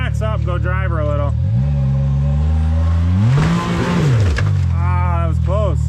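An off-road side-by-side climbing a rocky trail revs hard with a rising, falling engine whine that swells to a loud peak mid-way, while people talk nearby before and after.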